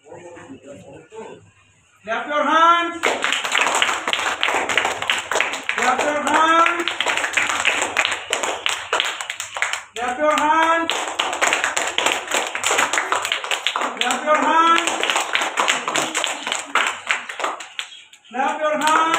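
An audience at a school awards ceremony breaks into sustained applause, dense steady clapping filling most of the stretch, with a voice speaking over it in several spots.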